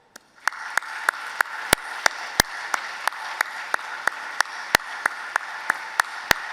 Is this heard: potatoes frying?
no